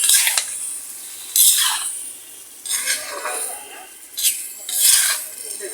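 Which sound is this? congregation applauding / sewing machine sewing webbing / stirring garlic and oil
stirring garlic and oil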